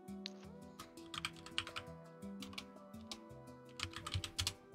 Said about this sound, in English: Who's typing like that?